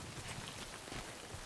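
Steady rain falls across the open landscape of Death Stranding, a soft continuous hiss of drops striking the ground, faint and even throughout with no voices.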